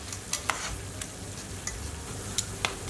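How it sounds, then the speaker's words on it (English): Thai beef skewers simmer in peanut sauce in a pan over low heat, giving a steady soft hiss and bubble broken by a few small, sharp pops and clicks, with no one talking. "We just want to let our skewers simmer in there just for about a minute."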